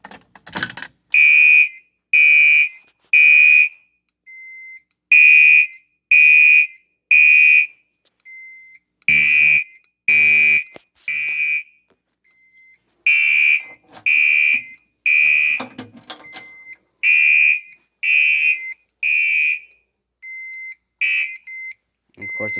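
An Edwards (EST) fire alarm system, set off by pulling an EST278B pull station, sounds a loud temporal-pattern buzzer: repeated groups of three harsh, close electronic tones separated by short silences, with a brief voice in between.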